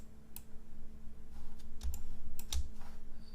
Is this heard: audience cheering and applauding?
no